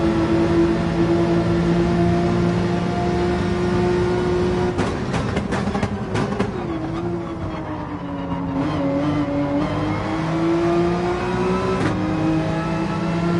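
A Group 3 racing car's engine in a racing video game, a loud, sustained high drone that shifts pitch as the car changes gear and revs through corners, steady and close throughout.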